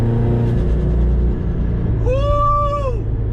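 A 500HP Subaru STI's engine rumbles loudly nearby, then a rising, falling whine sweeps over it for about a second as the car revs.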